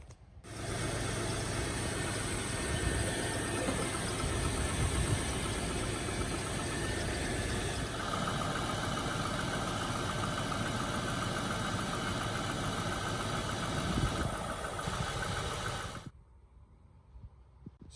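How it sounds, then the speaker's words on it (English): A Holden LS1 Adventra V8 idles steadily and close by for about fifteen seconds, a continuous even rumble with no voices over it, then it cuts off abruptly. "So I started the car, let it run for a bit, waited until it heated up"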